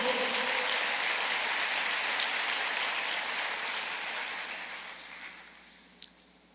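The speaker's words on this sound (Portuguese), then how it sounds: "Pode aplaudir o Senhor." Sustained applause from a crowd, a dense wash of clapping that gradually fades toward the end, with one sharp clap near the close.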